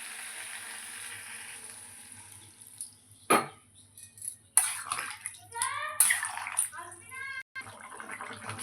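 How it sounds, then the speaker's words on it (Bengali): Water goes into a pan of potol, soybean and egg curry, setting off bursts of sizzling and bubbling after a quieter stretch, close and fairly faint. "এবার আমি জল দেবো একটু এতে।"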